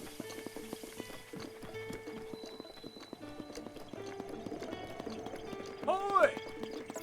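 Hooves clip-clop steadily from a gray horse in the Breath of the Wild video game, with music beneath and a short, loud neigh rising near the end.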